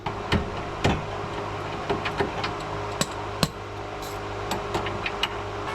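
Worn ratchet wrench clicking while working on the steering rack bushes of a Toyota Altezza: irregular sharp ticks and clacks, some close and loud, scattered over a low steady hum, with no talk.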